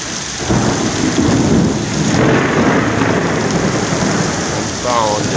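Heavy thunder rolls through a downpour over a city square in Komsomolsk, a deep rumble under the constant loud hiss of rain hitting the ground nearby.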